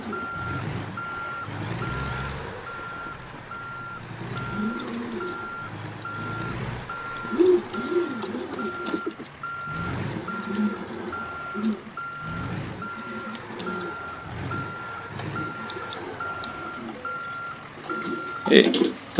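A truck reversing to park a trailer in American Truck Simulator sounds a steady, evenly spaced beep-beep over engine rumble, with someone talking throughout.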